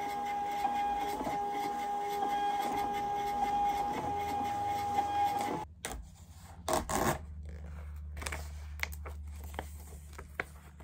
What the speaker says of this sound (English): Now I'm gonna print out the labels and then I'll get everything packaged up.